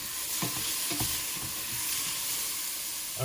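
Spring onions sauté together with mushrooms in a pan for a vegetarian magiritsa, a steady close sizzle broken by a few soft stirring scrapes, with no talking.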